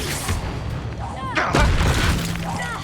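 A Confringo fire-blast spell in Hogwarts Legacy bursts with a loud booming crack at mid-clip, trailed by rumbling impact noise and whooshing magical effects, with a voice speaking over the game sounds.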